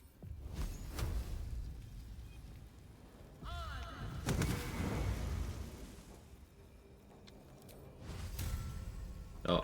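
Bursts of magic missile spell effects in a turn-based fantasy role-playing game fight, heard as several whooshing, thudding impacts over a few seconds with crackling energy and rising tonal sweeps.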